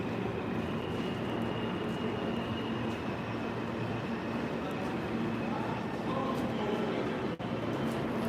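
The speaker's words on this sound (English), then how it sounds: "Smells like New York City subway down here." A New York City subway station platform fills with a steady loud roar and rumble of a train, broadband and continuous with a brief dropout near the end.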